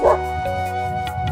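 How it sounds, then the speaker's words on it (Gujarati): Dogs in a rain-soaked farm field let out a brief, close yelping whine, with a quick sharp yip at the start. "તો ભાઈ 100 કૂતરો આવ્યા છે ખેતરમાં"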